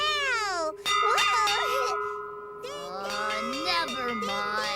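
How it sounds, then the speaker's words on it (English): A hand bell rings with bright metallic clangs and a lingering tone in a children's TV scene, while animated-sounding voices and a high sung or meowing line run over it. "I'm ringing this bell."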